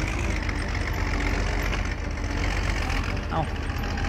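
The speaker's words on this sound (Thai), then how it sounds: "เป็นเครื่องยนต์รุ่นเก่านะฮะ" An older tractor engine idles in Farming Simulator 19 with a steady low knocking chug, close and continuous, and a brief tonal blip partway through.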